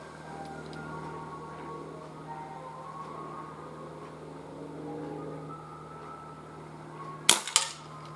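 Single sharp crack of a Webley 4-inch Police .22 air pellet revolver shot outdoors in gusty wind, with a brief echoing tail after a stretch of steady background hum.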